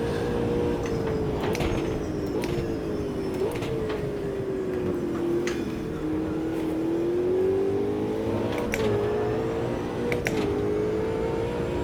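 Race cars accelerating hard off the line in the Automobilista 2 racing game in wet weather, a continuous loud engine drone that rises and falls in pitch with gear changes, alone without talk.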